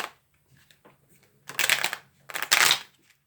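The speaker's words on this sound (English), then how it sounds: "we're going to give those one more shuffle." A deck of playing cards shuffled by hand during a card trick, with two quick riffling bursts in close succession after a few soft handling sounds, near and clear with no talking.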